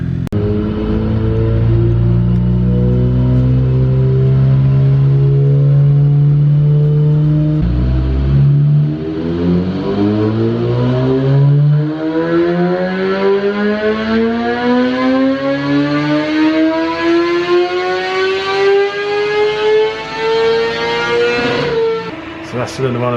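A remapped GSXR1000R superbike engine roars on a dyno, holding a loud steady drone before sweeping up through the revs in one long rising wail that cuts off sharply at the top.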